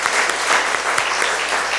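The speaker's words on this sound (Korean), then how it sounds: "박수로 환영하겠습니다" A Sunday church congregation gives warm, steady applause to welcome a new member, a dense, close patter of many hands clapping together.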